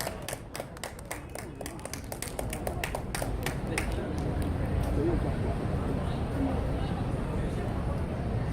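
Applause from the crowd at a Daegu Taegukgi patriotic rally: dense, sustained clapping mixed with crowd murmur, starting with sharp individual claps and swelling into a steady roar that holds loud and close throughout.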